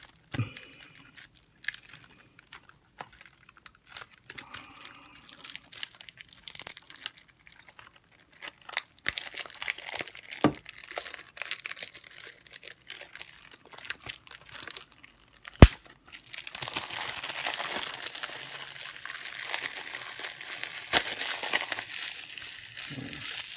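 Plastic wrap crinkling and tearing as a 4K Ultra HD Blu-ray case is opened, close and fairly quiet, with bursts of crackling and a sharp snap midway, then denser continuous rustling toward the end; no talking.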